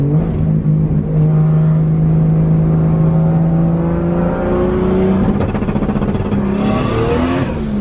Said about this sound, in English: That's my anti-lag button. Do you want to hear it?